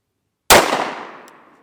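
A single sharp .45 ACP pistol shot fired into a gel block cracks loudly and close, then rings out in a decaying echo.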